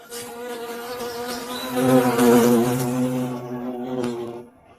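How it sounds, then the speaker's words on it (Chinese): Bees buzz in a close, droning hum that swells louder in the middle and fades toward the end, with no voices. "蜜蜂，"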